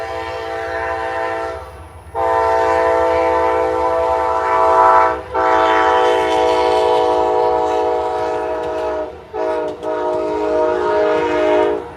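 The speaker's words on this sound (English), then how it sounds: "That's an Amtrak." Amtrak passenger train passing close by, a loud sustained multi-tone horn blaring almost continuously with brief gaps, heavy rumble of the cars underneath throughout.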